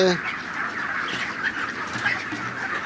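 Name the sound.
chickens clucking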